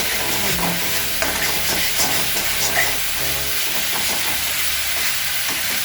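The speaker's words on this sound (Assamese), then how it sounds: "এইখিনি ভাজি থকা সময়ত মছলাখিনি অলপ ছেপাৰেট হ'ব তেলৰ পৰা" Dry spices frying in oil for an Assamese fish curry, giving a continuous loud sizzle and hiss with occasional scraping stirs of the pan.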